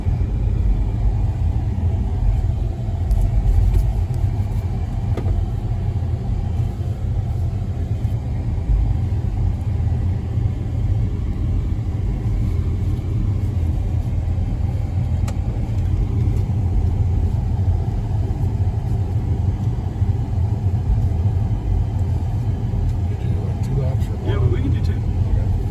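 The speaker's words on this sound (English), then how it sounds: "This vehicle can take just about any line you throw it out on this course." An INEOS Grenadier off-road vehicle drives across an off-road course at an overland expo, its engine a steady, close low rumble heard from inside the cabin, with people talking over it throughout.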